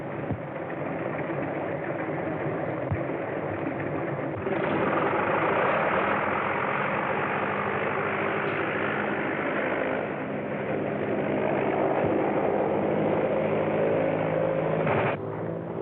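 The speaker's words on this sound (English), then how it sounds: "Larry Baker's on the plane." Steady, droning airplane engine roar, continuous and fairly loud, with slight swells in intensity throughout.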